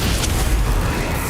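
In the game Hogwarts Legacy, a Bombarda spell explodes in one loud, sustained low boom with a rumbling, noisy wash filling the whole moment.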